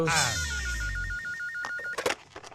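A telephone bell rings in a rapid trilling burst, fairly close, over a low tone that fades, followed by brief clattering noises.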